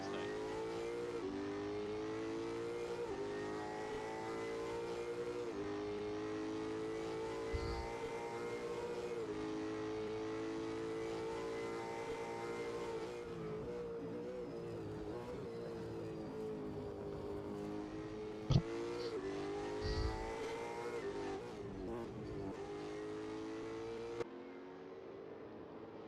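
Racing cars circulate on the track during an endurance race at Sandown, engines droning loudly and continuously with shifting pitch as they accelerate and lift, occasional sharp clunks, and no talk over the engine noise.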